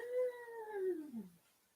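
A pet dog gives a single short howl that slides downward in pitch and trails off, faint and alone in a quiet room.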